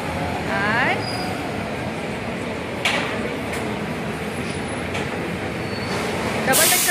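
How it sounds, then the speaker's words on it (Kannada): Trains pass along a busy Australian street also served by double-decker buses, giving a sustained rumbling roll with brief metallic squeals near the end while a voice talks over it. "ಟ್ರೈನ್ಗಳು ಜಾಸ್ತಿ. ಓಕೆನಾ, ಇಲ್ಲಿ ಜಾಸ್ತಿ ಸೌಂಡ್ ಇದೆ."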